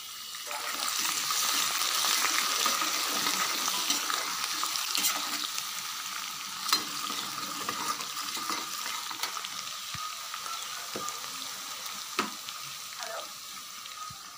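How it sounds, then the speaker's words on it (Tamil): Garlic and curry leaves fry in hot oil for mango rice, a soft, constant sizzle and crackle with occasional sharp pops and stirring clicks, heard close and fairly quiet. "இப்போ பாருங்கள், பூண்டு கருவேப்பிலை நம்ம ஆட் பண்ணிட்டோம்."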